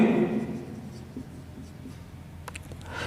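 Chalk or marker scratching across a classroom board during a Class 10 coordinate geometry maths lesson, steady close strokes through most of the clip with a few sharper taps near the end.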